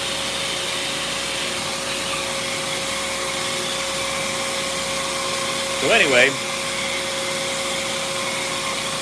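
A vacuum cleaner, used during a drilling session, drones steadily throughout at an even level, with a brief burst of speech partway through.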